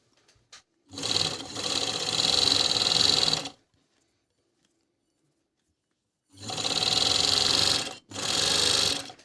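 An Agat Donlock 54D4 industrial overlock machine stitches thin knit fabric in two loud, steady runs of a few seconds each, separated by a stretch of near silence.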